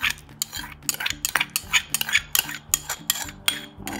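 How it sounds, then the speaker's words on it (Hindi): Noodle salad being stirred with mayonnaise and ketchup gives a steady run of close, crisp clinks and scrapes from a utensil against the bowl, repeating in quick irregular strokes with no talking. "अब हम करते हैं मिक्स और फिर हम डालते हैं इसमें मायोनेज और केचप"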